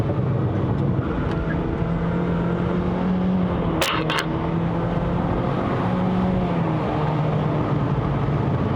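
A remapped Honda City Hatchback 1.5L GN5 pulls through wet mountain corners under throttle, its engine droning steadily from inside the cabin with a sharp click midway, no talk.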